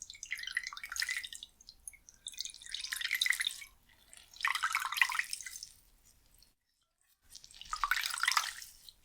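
A squeezed wet cloth drips water in four separate bursts of trickling drops a few seconds apart, soft and close in a quiet room, with silence between.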